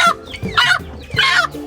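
A hen squawks and clucks in three sharp, loud bursts as she is lifted up, close by, with brief pauses between the cries.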